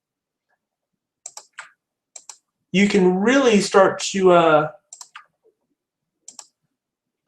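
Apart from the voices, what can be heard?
computer mouse clicking in Photoshop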